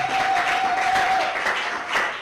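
A church congregation at a French-language worship service applauds after a scripture reading, with steady, full clapping throughout that sounds fairly close, over a sustained tone.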